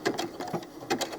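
A sewing machine stitches doll clothes fabric, a brief close burst of rhythmic mechanical pulses ticking along at a steady pace.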